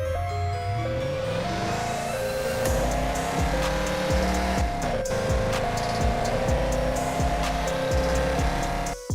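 Car driven in the mobile open-world police driving game Police Sim 2022, with a steady synthetic engine drone that shifts pitch through gear changes, plus repeated tire screeches and bumps, loud and continuous with background game music.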